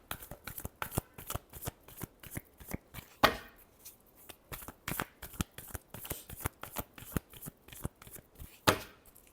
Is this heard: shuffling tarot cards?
yes